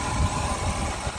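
A Studebaker-era Avanti II car engine idles just after startup, a steady low rumble with a dual exhaust and replaced manifolds, close and continuous with no talk.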